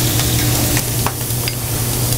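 Steady sizzle of eggs frying over easy in butter on a bar and grill's kitchen griddle, loud and continuous, with a few faint clinks and scrapes on top and no talking.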